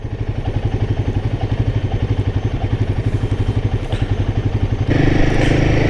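A new Royal Enfield Himalayan 450 motorcycle, black and yellow with very low mileage, being ridden: a steady, pulsing single-cylinder engine thrum close by, with the pitch and loudness rising near the end as it accelerates.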